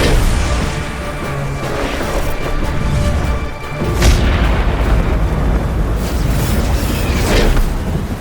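A loud, close thunderclap from a lightning strike in a dramatic story sound effect: a heavy rumbling boom with sharp cracks near 4 and 7.5 seconds, continuous and alone, with no voices.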